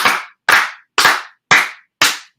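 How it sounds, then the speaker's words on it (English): A group at a student awards event gives exactly five loud, sharp claps in unison, evenly spaced about half a second apart, each a crisp crack with a short decay and silence between. "we want to give 5 claps to you"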